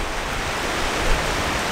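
Sea waves wash against a rock on the Devon coast, heard as a dense, steady rush of surf noise with a slight swell near the middle.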